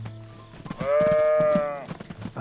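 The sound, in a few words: sheep in DayZ video game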